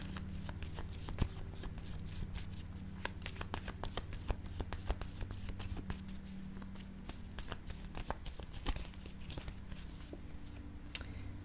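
Oracle cards being shuffled and drawn by hand, a dense run of quick crisp riffling clicks and snaps over a low steady hum, close and fairly quiet, with no talking.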